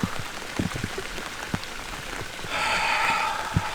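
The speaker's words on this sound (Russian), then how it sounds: "пошел дождь" Rain patters close by at an outdoor fishing spot with irregular drips and taps, then a brighter hiss of heavier rainfall swells in the second half.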